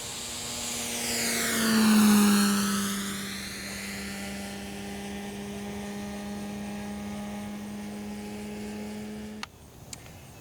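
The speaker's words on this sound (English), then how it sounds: "we're going to show one circle down low so you can get a bit of a reference as the plane passes by the trees" An electric RC model airplane on a four-cell setup with an APC 1610 E-prop whines past low over trees, its propeller pitch rising, then falling in a clear Doppler sweep as it passes close and drones on steadily.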